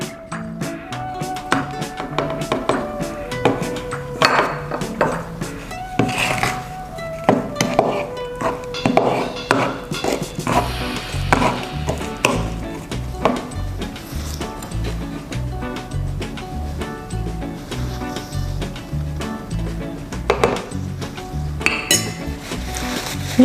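Fruits, bread crumbs and flour for a Christmas pudding being mixed in a bowl, with repeated clinks and knocks of utensil against the bowl in an irregular rhythm, close and fairly loud.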